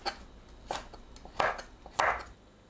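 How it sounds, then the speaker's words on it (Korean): A knife slices Cheongyang and red chili peppers into rounds on a cutting board: a quiet, uneven series of crisp taps, two of them sharper and louder, with no voices. "청양고추, 홍고추를 둥글게 썰어줍니다"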